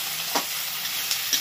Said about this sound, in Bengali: এই দুটো যেহেতু শক্ত সবজি আগে ভেজে নিতে হবে